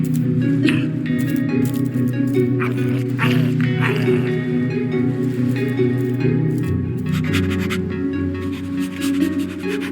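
Dog barking and yipping in the Minecraft Story Mode video game, repeated sharp barks over a busy game soundtrack with rattling and squishing effects.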